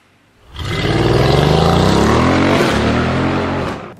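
A Mercedes on a racetrack roars up from quiet into a loud, sustained high-pace run, engine pitch climbing under acceleration, holding steady, then cutting away after about three seconds.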